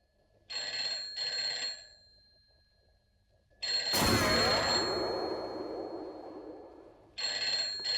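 An old-style telephone bell rings in bursts of double rings separated by pauses, fairly close and clear, with a metallic clang interrupting in the middle.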